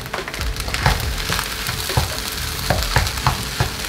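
Nasi goreng padang stir-fried in a small wok, a spatula scraping and tossing rice in steady repeated strokes over a constant loud sizzle, close up with no talking.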